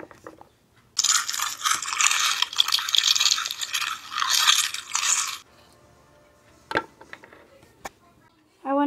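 Almond cereal crunches in a burst of crisp, close crackling and rattling for several seconds, followed by a few scattered clicks and a brief voice near the end.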